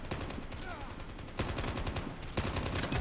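Rapid bursts of gunfire from the mobile game Call of Duty Mobile, three clusters of sharp repeated shots spread across a few seconds, fairly loud with faint game sounds between them.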